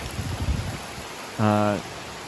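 Rain falling steadily in the aftermath of a hurricane, a broad soft hiss of drops at moderate distance, with a brief harmonic tone like a voice or horn rising over it partway through.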